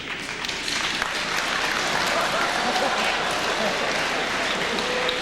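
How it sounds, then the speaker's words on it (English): Sustained audience applause at a Faribault High School awards assembly honoring departing advisor Mr. Turtle, a dense steady wash of many hands clapping at even loudness throughout, with faint room murmur mixed in. "Clapping for you, Turtle."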